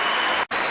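Cricket crowd applauding a batsman's century with a standing ovation, a dense steady roar of clapping that cuts out abruptly for an instant before resuming.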